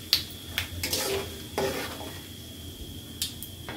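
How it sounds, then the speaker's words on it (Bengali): Cardamom, cinnamon, dried chili, panch phoron and cumin fry in hot oil in a pan, a soft sizzle broken by a few sharp clinks and scrapes of a stirring spoon against the pan. "এলাচ, দারচিনি, শুকনা মরিচ, পাঁচফোড়ন আর জিরা একটু ভেজে নেব কিছুক্ষণ।"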